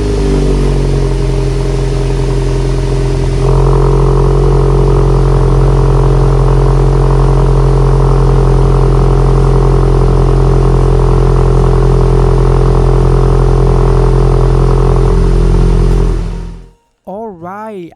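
2022 Volkswagen Golf GTI engine running at a loud, close, steady idle that rises in pitch partway through, then cuts off abruptly near the end, followed by a brief voice.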